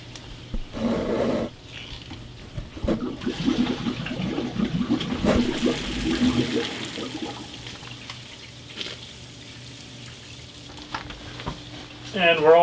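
Water rushes steadily through the feeder plumbing of an automatic refrigerated frozen fish food feeder, a close, continuous hiss and gurgle that swells early and settles to a softer flow.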